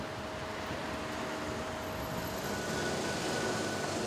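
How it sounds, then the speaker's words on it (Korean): Steady low rumble and hum of a trolleybus interior in motion in Yerevan, Armenia, with faint whining tones from the electric drive, no voices. "이곳 전차는 무궤도 전차인 트롤리버스."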